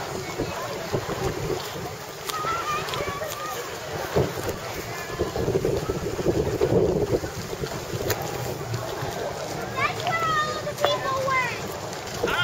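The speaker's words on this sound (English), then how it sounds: "They're arriving on a pontoon boat." A pontoon boat's motor hums in the distance as it arrives at a wedding, amid wind buffeting the microphone and water sounds, with people talking nearby.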